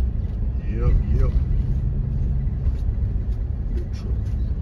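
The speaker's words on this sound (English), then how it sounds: "Big truck." A big truck rolls past on a town road in Monroe, Louisiana, a low, steady rumble close by with a brief squeal, while someone talks over it.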